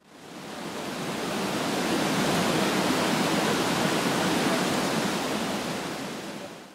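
Water pouring over a weir on the River Ribble, a steady, dense broadband rush that swells in and fades out, loud and continuous, with no voices.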